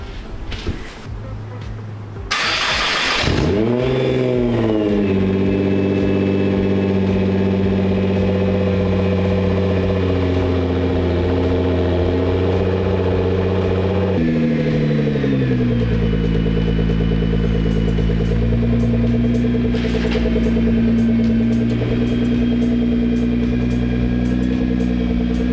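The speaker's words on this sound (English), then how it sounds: "Of course, we're gonna do a cold start for the boys." Nissan GT-R engine on a cold start: a cranking burst flares into a loud high idle with layered engine harmonics, settling slightly lower partway through and holding a steady close, continuous drone.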